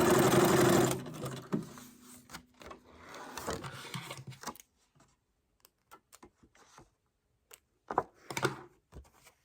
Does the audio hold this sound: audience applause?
no